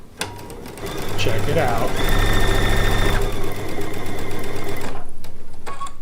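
A sewing machine stitching quilt pieces starts after a brief click and runs at a rapid steady chatter for several seconds, then stops; a voice speaks briefly near the start.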